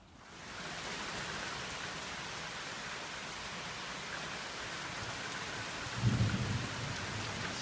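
A thunderstorm heard from a screen porch on a homestead, with steady heavy rain hissing evenly throughout and a deep thunder rumble swelling near the end.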